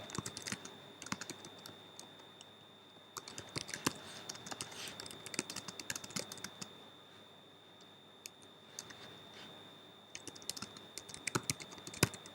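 Quiet, fast keystrokes on a computer keyboard while Apex code is entered, irregular bursts of light clicks with short pauses, close and soft over a faint steady hum.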